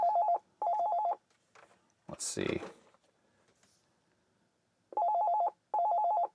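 Phone on a Panasonic KX-TA824 analog PBX ringing in short electronic double bursts, with a brief spoken remark and some handling noise in the gap between the rings.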